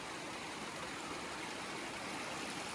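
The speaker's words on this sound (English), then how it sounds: "this is my video of the Big Spring Waterfall" Big Spring Waterfall just northwest of Highland, Wisconsin, pours in a steady, unbroken rush of water, close and even throughout.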